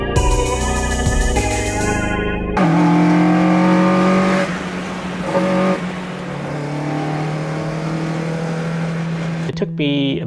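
A restored car engine with oversized stainless steel valves and a stage 4 cam, making about 185 horsepower, runs loud and steady with slight shifts in revs after a short opening of other sound.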